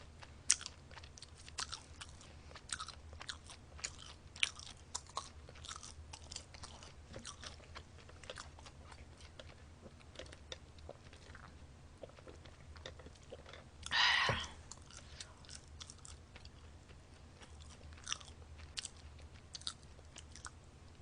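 Crunchy chewing of McDonald's French fries, eaten close to the mic as mukbang, with a steady run of small bites and crunches and one louder burst partway through.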